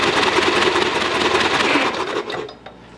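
A previously seized small engine runs loud with a fast, rattling chatter, then sputters and dies away near the end.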